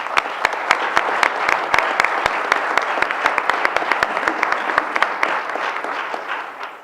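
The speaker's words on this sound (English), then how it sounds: "And I'd like us just at this point to give Jay a round of applause." Conference audience applause, a full crowd clapping with a few sharp, close individual claps standing out through the steady patter before it fades at the end.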